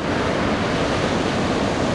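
Ocean surf at Anglet beach, with waves around 1.2 to 1.3 metres: a dense, steady roar of breaking water, loud and continuous with some wind on the microphone.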